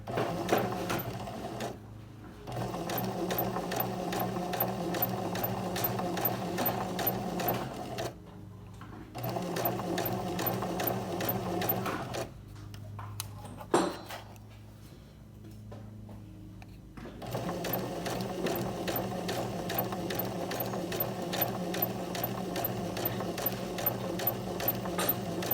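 Sewing machine backstitching fabric for a mock fly zipper, a fast, steady mechanical whir in several bursts with short pauses between runs, close and loud.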